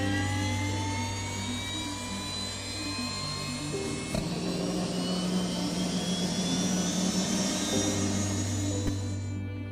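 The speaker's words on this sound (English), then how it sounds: "The helicopter was then cleared for takeoff and flew to the skies." A UH-60L Black Hawk helicopter's turbine whines and rises in pitch as the engine spools up for takeoff, loud and close, with heavy steady rotor rumble beneath.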